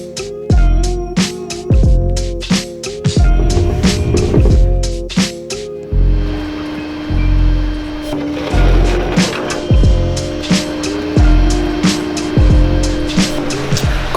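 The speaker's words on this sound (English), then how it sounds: "now the towing process is about to begin" An Audi S4 in neutral is winched onto a tow truck on a street in the Bronx: a string of loud metallic clanks and ratcheting knocks, then a steady mechanical whine with more clunks, all close by and with no voices.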